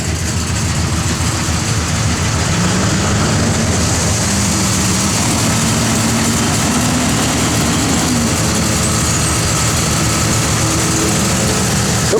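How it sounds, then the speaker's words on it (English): The blower motor of a 1966 Oldsmobile F85 runs with a steady, loud, constant whirring and broad rushing air noise, unchanging throughout, with no talking. "Blower motor does work"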